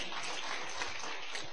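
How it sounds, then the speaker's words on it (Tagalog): A church congregation at an Ilocano preaching service claps together in a dense, steady burst of applause that fills the room, with no voices over it. "Palakpak ni Jesus."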